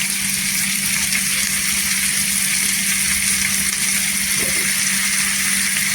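Washed fenugreek leaves being sautéed in oil, with a steady, loud hissing sizzle that holds unchanged throughout.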